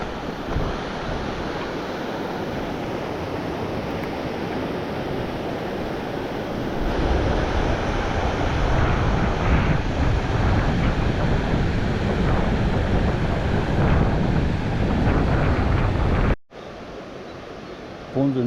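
The Gave de Pau river flowing near a bridge in the Pyrenees, a loud, steady broadband rush of water that swells midway and keeps going with no voices over it.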